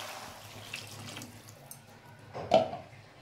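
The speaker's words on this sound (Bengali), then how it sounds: "এবার আমি এর মধ্যে জল দিয়ে দিচ্ছি।" Water poured into a pan of turnip and rohu fish curry, a faint liquid trickle and splash rising to a brief louder pour near the end, close and quiet.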